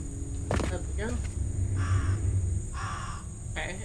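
Crow caws from the video game South of Midnight ring out in several short bursts over a steady low game-ambience drone, with a person talking over the top.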